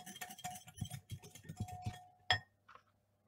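A spoon stirring couscous spices in a bowl, with a quick series of light clinks and scrapes against the bowl, then one sharper knock and a faint final tap.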